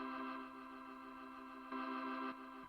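Hammond B3 organ emulation on a keyboard through a rotary speaker effect, a sustained chord with rich harmonics and a slight lift in loudness toward the end, played alone without talk.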